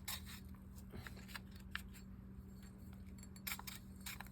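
Drag on an ABU Garcia Abumatic Colt fishing reel clicking in quick, faint irregular bursts, small crisp ratcheting ticks close by with no talk.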